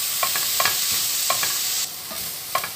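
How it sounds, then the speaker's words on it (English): Chopped carrot fries in a small amount of oil in a pan, a steady bright sizzle broken by repeated scraping stirs at a fairly regular rhythm, close and with no voices. "Less oil lang tayo guys para healthy. Fry natin hanggang soft."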